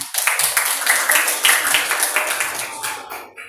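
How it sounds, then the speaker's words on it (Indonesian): A classroom of schoolchildren clapping together in a burst of applause, dense and fairly close, fading out toward the end. "Beri tepuk tangan."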